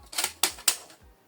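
The paper guide in the cassette of a Canon PIXMA TS7550i printer slides into place with three quick plastic clicks and scrapes, close and fairly soft, with no talk.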